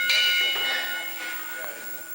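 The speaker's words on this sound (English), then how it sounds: "Referee Perry calls for the bell" A wrestling ring bell clangs to end a Tri State Wrestling match, a couple of bright metallic rings fading out under crowd noise.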